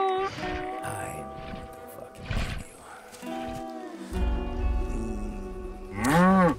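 Cow mooing in the Just Cause 3 video game, long drawn-out lowing calls that rise and fall, heard alongside game music and excited voices talking over it.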